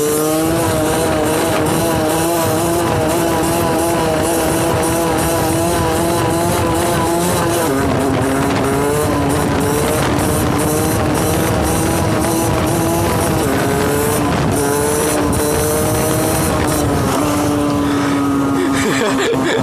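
A motorbike engine revs hard and climbs in pitch as the rider shifts into fourth gear, loud and close with a steady droning whine and wind rush throughout.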